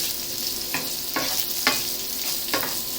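Beef mince for spaghetti bolognese sizzles steadily in a frying pan while a utensil stirs it, scraping the pan in rhythmic strokes about every half second, close and fairly loud.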